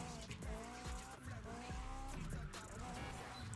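Car tires screech and skid in long sliding bursts while drifting in the racing video game The Crew Motorfest, with an engine roaring steadily underneath at a constant loud level.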